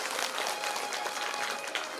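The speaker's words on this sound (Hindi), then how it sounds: "सब लोग ताली मारो" Gathered listeners at a Shiv Mahapuran religious discourse in a village assembly clap together, a soft but continuous patter of many hands lasting the whole moment.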